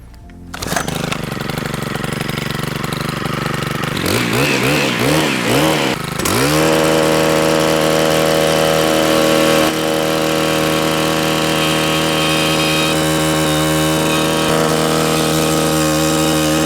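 A petrol post hole borer engine is pull-started, sputters, then revs up into a loud, steady running drone with strong harmonic buzz that holds through to the end.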